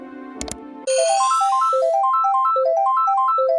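A brief clatter, then a bright electronic Mario Kart jingle of repeating rising beeps, loud and clear, playing on without voices.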